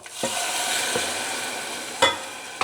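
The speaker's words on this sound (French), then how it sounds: "je vais venir placer du coup 330 g de mélange de légumes à couscous dans ma casserole avec les sardines" Couscous vegetable mix goes into a saucepan with sardines and sizzles, a steady close frying hiss broken by a few sharp clinks and stirring knocks, with no talk.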